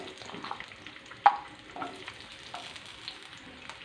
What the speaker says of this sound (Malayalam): ചിക്കൻ കോരിയെടുത്ത ബാക്കി എണ്ണയിലേക്ക് നമുക്ക് സവോള അരിഞ്ഞത് ഇട്ട് കൊടുക്കാം.